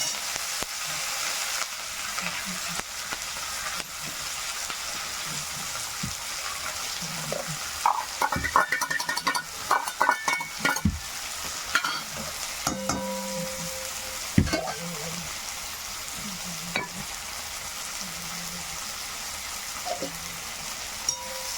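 Onion sizzling and frying in hot oil while being stirred, a steady crackling hiss throughout with scraping and clinking of the utensil against the pan, no voices.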